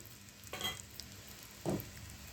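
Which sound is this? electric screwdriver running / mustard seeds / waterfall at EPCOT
mustard seeds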